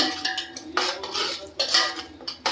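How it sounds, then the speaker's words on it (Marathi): Masala stirred in oil in a pot for moong khichdi: a spoon clinks and scrapes against the metal in repeated uneven strokes, with soft frying underneath and no talk. "आपण त्याच्यामध्ये छान हलवून घेणार आहोत"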